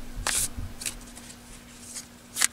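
Tarot cards from the Wild Unknown deck being shuffled and handled, with a few short crisp riffling bursts and soft slaps as cards are laid out, close up with no talking.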